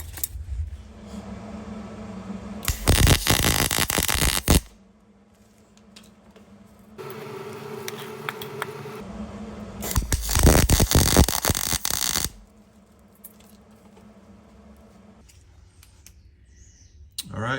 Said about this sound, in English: I'm going to put a couple tack welds on the inside here and be done with it